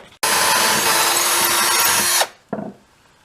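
A loud power drill whirs steadily through wood for about two seconds, stops, then gives a brief short burst.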